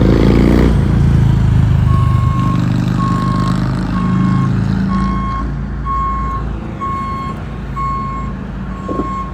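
A truck moving off on a reopened stretch of Highway 70 in Marysville: a loud diesel rumble under a steady series of evenly spaced high reversing beeps that repeat throughout.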